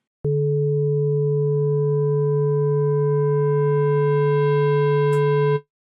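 A loud sustained synth tone with frequency-shifted distortion whose buzzy upper overtones gradually build and brighten over several seconds as feedback rises, before cutting off abruptly.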